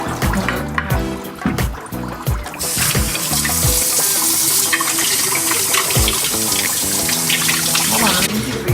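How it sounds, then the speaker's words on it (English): Water runs from a tap into a container, a loud steady gush that starts after a few seconds of clattering and continues to the end. "water."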